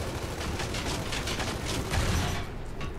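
Rapid gunfire rattles steadily in a video game firefight, a dense stream of repeated shots at moderate loudness that runs almost the whole time before easing slightly at the end.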